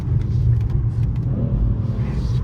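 A car on a descending stretch of track drops two gears, its engine giving a loud, low rumble that rises and falls briefly, close by.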